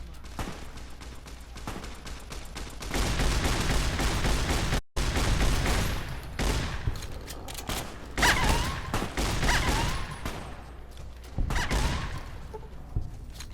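Rapid riot shotgun blasts in Fallout New Vegas, a dense string of heavy booming shots in bursts across about fourteen seconds, with brief pauses and a voice talking over parts of it.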